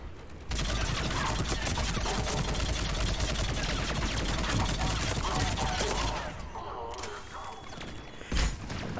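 Turret gunfire from the Mass Effect 3 video game, a dense, sustained burst of rapid shots for about six seconds, then thinner scattered shots and a single louder bang near the end.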